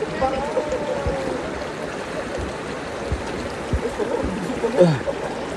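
Spring water flows steadily at the Dumacaa River, a continuous broadband rush with faint gurgles, close by, with a brief splash-like flutter near the end.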